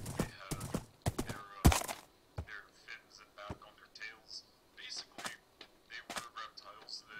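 A horse's hooves clip-clop in the video game Minecraft, a rapid run of sharp hits followed by lighter, scattered steps over a faint background.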